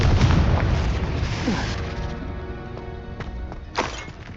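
In the video game Hogwarts Legacy, a Confringo explosion spell bursts into a loud booming blast with crackling, shattering debris that slowly fades, and a second smaller burst follows near the end.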